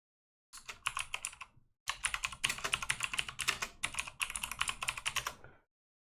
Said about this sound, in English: my keyboard's like dummy loud